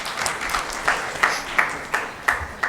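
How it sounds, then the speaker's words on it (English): An audience applauds at an illness-to-wellness awareness conference during a memento presentation. Steady applause carries a regular series of sharp, evenly spaced claps that stand out above it. "Let's have a huge round of applause."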